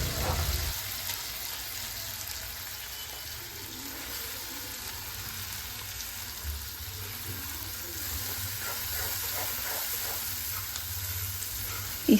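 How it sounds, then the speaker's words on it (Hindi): A chopped garlic mixture frying in hot oil with cumin and mustard seeds, a steady, fairly soft hiss and crackle lasting throughout, ending with a brief louder knock. "फिर जो ये मैंने चॉपर में चॉप किया हुआ है इसे अच्छे से फ्राई कर लूँगी।"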